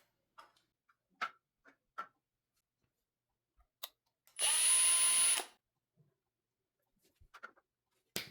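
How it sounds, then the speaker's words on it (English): A single short burst of a small power drill pre-drilling a small hole for a desk adapter holder, whirring for about a second, surrounded by quiet clicks and light handling taps. "You will need to pre-drill 2 small holes for the adapter holder."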